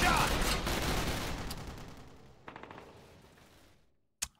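Gunfire in the video game Call of Duty: United Offensive: a loud burst fading away, then a rapid cluster of distant shots and one sharp close crack at the end.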